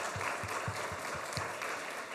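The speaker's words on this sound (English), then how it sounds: "Another applause, please." Applause from a conference audience at a space resources event, a faint, even patter of clapping with soft rhythmic thumps running for about two seconds.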